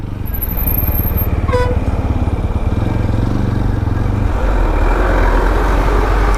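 Motorbikes and other vehicles pass one at a time on a landslide-damaged mountain road, a loud, continuous engine drone close by, with a brief horn toot early on.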